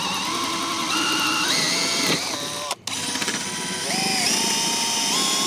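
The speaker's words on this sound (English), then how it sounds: "now I'm just gonna drill the rest of the way through those" A power drill bores through fence wood, its motor whining and shifting pitch under load with a brief cut-out midway before revving again, close and alone.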